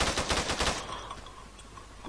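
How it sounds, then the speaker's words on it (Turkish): A rapid burst of automatic gunfire rings out in the Zula online shooter, several close, sharp shots in quick succession before it cuts off and only a faint tail remains. "Silah sesleri biraz değişebilir."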